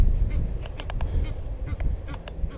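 A bird caught near a fishing line while casting from the bank gives loud, close honking calls in quick, uneven bursts, with no talk over them.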